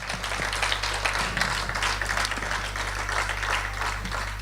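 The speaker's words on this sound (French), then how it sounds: "est-ce qu'on peut juste applaudir qu'est-ce que le Seigneur a fait durant la louange?" Congregation applauding during a church service, a steady wash of many hands clapping at moderate distance with a low hum underneath and no clear voices.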